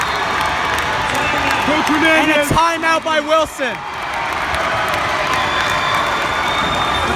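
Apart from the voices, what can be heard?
crowd cheering at high school basketball game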